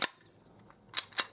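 Walther PPQ M2 pistol fired three times, one sharp loud shot at the start and then two more close together near the end, with a quiet pause between and no talking.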